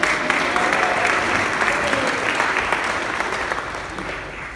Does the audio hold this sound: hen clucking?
no